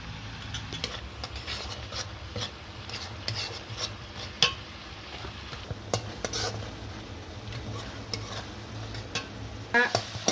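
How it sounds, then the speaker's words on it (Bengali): Cumin powder being stirred with water in a pan gives a soft, steady sizzle with scattered scraping and tapping of a utensil against the pan, up close and without talk. "জিরে গুঁড়ো একটু নাড়াচাড়া করে একটু জল দিয়ে দিলাম।"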